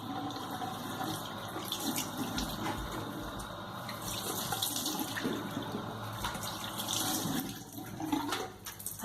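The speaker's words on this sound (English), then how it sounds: "So basically just turn the tap on." Water runs steadily from a tap into a sink for hair washing, a continuous hissing splash with small clatters and shifts in flow, fairly quiet and unbroken throughout.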